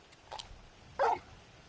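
Torgal, a dog in the video game Final Fantasy XVI, gives a short soft bark and then a louder single bark, close by and otherwise quiet.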